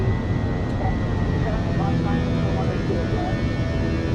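Fenix A321 airliner engines spooling at climb thrust in Microsoft Flight Simulator 2024, a steady loud broadband roar with a low rumble and faint whine held throughout, no talk over it.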